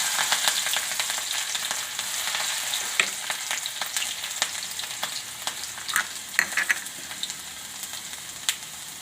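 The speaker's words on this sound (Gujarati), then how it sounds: "આપણું તેલ આવી ગયું તો આપણે મરસું નાખી દેવું અને આપણે જીરું નાખી દેવું અને આદું નાખી દેવું" Mustard seeds, cumin and ginger frying in hot oil give a steady, close crackling sizzle, with scattered sharp pops and spits throughout and no talking.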